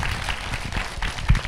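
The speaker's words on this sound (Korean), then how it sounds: "박수 한번." Audience applause at a science outreach event for gifted students in Korea, a steady, moderately quiet wash of clapping from the hall with no voices over it.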